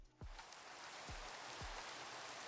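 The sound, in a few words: rain falling in the Minecraft video game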